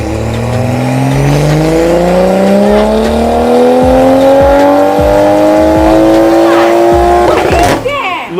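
A tuned Toyota Supra MK5 engine revs steadily upward under load on a dyno, a loud continuous rising drone with exhaust pops, ending in an abrupt lift-off near the end.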